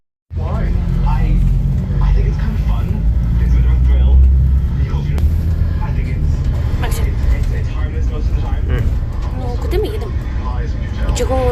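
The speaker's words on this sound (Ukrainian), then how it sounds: "Ось наш автобус." City bus pulling up at a stop in Ireland, a loud steady low engine rumble throughout with traffic noise, while people talk and laugh nearby.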